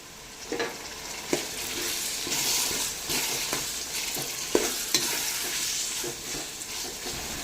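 Ripe tomatoes and garlic sautéing in a pan for a village-style mutton kuzhambu, a steady close sizzle broken by sharp clicks and scrapes of a spoon stirring at irregular intervals, with no talking.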